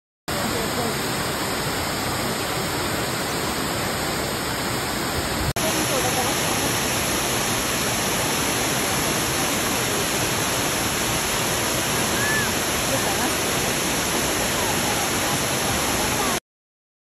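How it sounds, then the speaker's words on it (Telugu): Abbey Waterfall in Coorg roars as a loud, steady, broadband wash of falling water, unbroken from start to finish. "నాకైతే చాలా బాగా నచ్చేసింది వాటర్ ఫాల్ అయితే"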